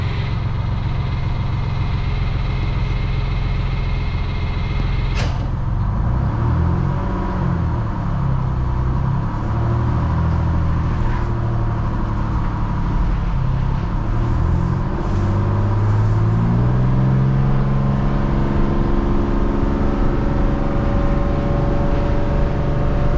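Bus engine, Unit 23, running steadily while the bus is driven on a road: a continuous loud low drone with shifting tones as speed changes, and no talk.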